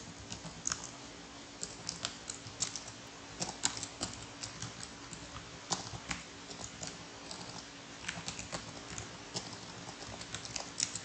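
Someone types a command on a computer keyboard, giving a quick, irregular run of close, soft key clicks that lasts several seconds with no voice over it.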